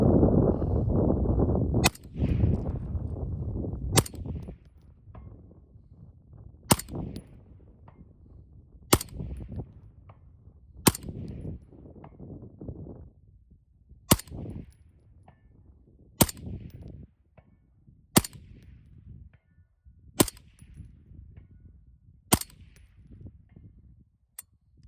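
A 6.5 Creedmoor AR10 rifle with a Proof Research barrel and SilencerCo Velos suppressor fires about ten sharp, spaced shots, each a crisp crack followed by quiet gaps with faint outdoor ambience.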